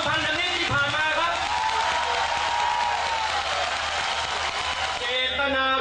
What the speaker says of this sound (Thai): ผมอยากให้พวกเราปรบมือส่งเสียงดังๆ